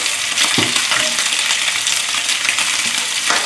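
Beef frying in a very hot pan with ginger and garlic for cashew beef with vegetables, a loud, dense continuous sizzle with a few soft spatula knocks, close up and without voices.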